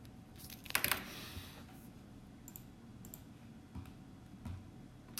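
Faint clicks of fingers pressing a Casio calculator keypad while numbers are typed, with one quick cluster of taps early and scattered single presses afterward in a quiet room.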